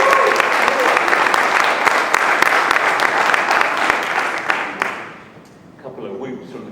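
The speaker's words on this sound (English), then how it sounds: "A couple of whoops from the crowd there" Loud crowd applause with a few whoops fills a Citizen watch launch event welcoming cricketer Kevin Pietersen as brand ambassador in the Middle East, steady clapping that fades out near the end.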